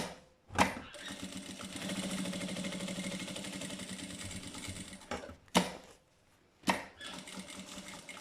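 A sewing machine hums steadily while stitching stabilizer around a traced line on a wallet piece, with sharp clicks and knocks breaking in near the start and end, and no voices.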